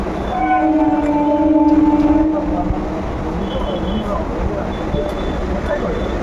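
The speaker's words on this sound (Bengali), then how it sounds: "দেখতে পাচ্ছ ট্রেন ছেড়েছে" A train pulls away slowly, with a sustained horn-like tone early on, then a steady rolling rumble, close and fairly loud, with a voice speaking over it.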